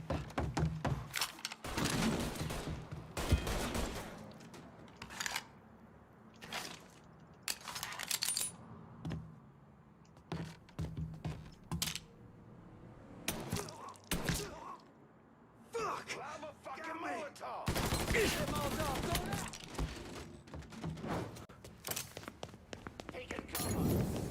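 Gunfire from a gun in Mafia III, sharp broadband reports scattered irregularly through the stretch, some bursts close together, mixed with thuds and game noise under steady talk.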